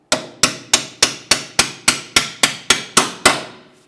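Twelve sharp, evenly spaced small-hammer taps on a metal part of a Mitsubishi Lancer rear strut assembly ring out one after another at a steady rhythm, close and loud, with no talking.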